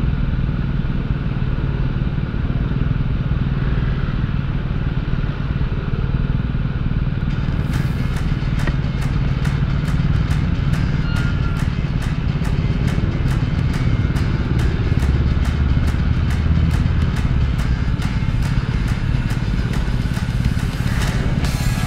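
A Honda ADV 160 scooter engine idles steadily and close in Bacoor traffic, a constant low rumble, with a rapid ticking clatter joining partway through and continuing to the end.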